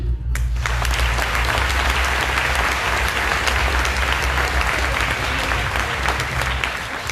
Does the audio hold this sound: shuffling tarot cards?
no